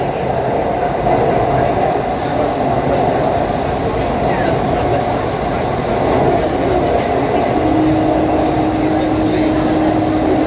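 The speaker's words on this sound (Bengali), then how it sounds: "যতক্ষণ নীল আলো জ্বলতে থাকবে ততক্ষণই গঙ্গার তলা থেকে ট্রেনটা যাবে।" A Kolkata metro train running through the tunnel beneath the Ganga river makes a loud, continuous roar and rumble from inside the carriage, steady throughout with no breaks.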